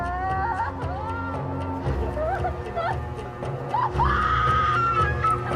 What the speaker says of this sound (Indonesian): Gendis menjerit ketika melihat Puput sudah tewas dalam keadaan mengenaskan